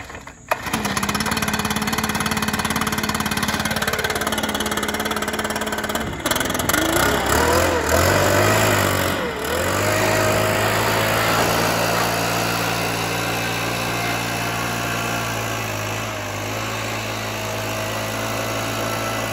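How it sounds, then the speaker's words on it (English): A leaf blower blasting water off a wet Geo Tracker: a steady, loud, high-pitched engine whine that runs the whole time, shifting in pitch briefly midway as the airflow moves, with no voices. "I'm just gonna blow it off with a leaf blower and try to get it dry."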